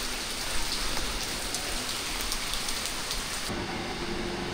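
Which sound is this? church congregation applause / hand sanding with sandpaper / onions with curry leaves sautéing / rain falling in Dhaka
rain falling in Dhaka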